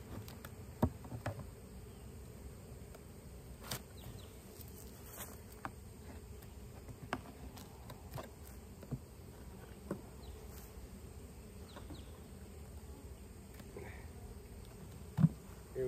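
Extra honeybees brought from Wauchula buzz as a low, continuous drone while a hive is worked outdoors, with a few scattered soft knocks and thumps over the steady hum.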